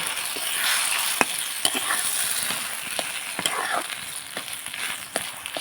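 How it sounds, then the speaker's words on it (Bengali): Egg being stirred into ash gourd frying in a pan, with a steady sizzle and scraping spatula strokes recurring at a moderate pace, close up and fairly loud, no talking. "এ দেখুন আমি ভালো করে ডিমটার ভাজিটা একসাথে মিশিয়ে নিচ্ছি"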